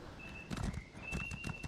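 Horse hooves clip-clopping in the Elder Scrolls Online video game, a quick, faint run of hoof thuds with a neigh-like tone layered over them, under a quiet game soundscape.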